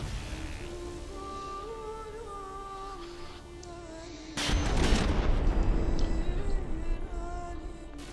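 Heavy gunfire in a naval battle video game: one loud, close broadband blast with a long rumbling tail cuts through sustained musical tones and steady ambience.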